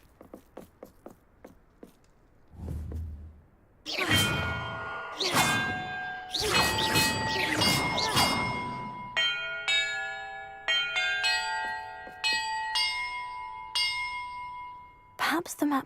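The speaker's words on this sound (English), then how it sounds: "Perhaps the map contains clues about the order I'm supposed to ring the bells in." Bells being struck one after another in a Hogwarts Legacy puzzle, at first a few heavy clanging hits, then a quicker run of bright ringing tones that overlap and fade, with soft taps before them.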